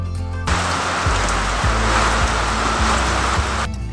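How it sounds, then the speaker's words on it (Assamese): A steady afternoon rain shower gives a dense, continuous hiss of falling drops that holds evenly from start to finish, with no voices. "এতিয়া আবেলি বৰষুণ জাক দিওঁতে বহুতেই ভাল লাগিছে"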